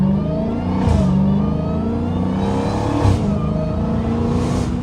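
A catless Dodge Hellcat drones loudly while driving, its deep engine note holding steady with two sharper revving surges partway through, close and unbroken.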